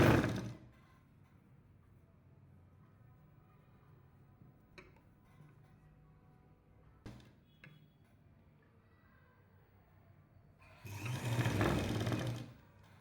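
A sewing machine stitching a lining jacket runs in a short burst at the start, goes quiet except for a few faint ticks and clicks, then runs again in a louder, steady burst near the end.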